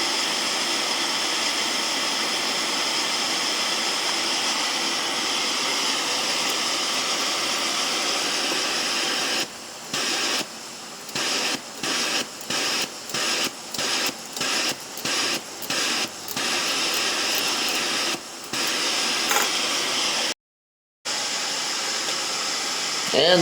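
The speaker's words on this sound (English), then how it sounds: "And there's a look at the new flame. The stove is all cleaned out." An Optimus Polaris camping stove burns with a steady, loud roaring hiss, broken by a run of rapid short dropouts and one brief full cut before the flame resumes.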